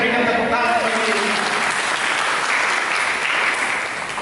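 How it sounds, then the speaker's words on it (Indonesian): Church congregation bursting into sustained, loud applause during a sermon, a dense wash of clapping that holds steady for several seconds with a few voices mixed in. "Mari kita berikan tepuk tangan bagi ini."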